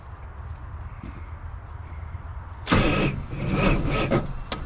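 A 1974 Chevy K10 truck, sitting unstarted for 31 years, cranks and catches after a quiet lull, its engine rumbling loudly and unevenly with rough surges as gas is given.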